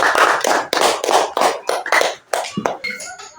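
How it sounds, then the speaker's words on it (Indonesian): Primary school children in an Indonesian classroom in Tabanan, Bali clap together for a classmate in a quick, rhythmic patterned sequence of sharp, close handclaps with no talking. "Tepuk tangan untuk Gosang."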